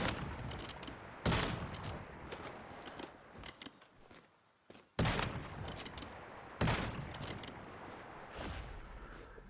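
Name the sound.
gunfire shooting bears in video game Once Human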